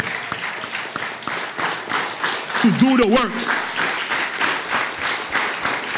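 Applause for the women of the Bible during a church law class, a steady patter of clapping running throughout, with a voice speaking briefly over it.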